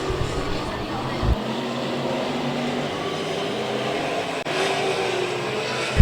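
Street Stock race cars take the green flag at a racetrack, a dense roaring engine drone that rises slightly as the pack accelerates, steady and continuous throughout.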